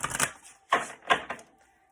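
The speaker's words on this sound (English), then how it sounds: "let's shuffle it one more time" A deck of playing cards riffled and shuffled during a tarot-style card reading, heard as three quick, crisp bursts of fluttering card snaps, close and fairly quiet, with no talking.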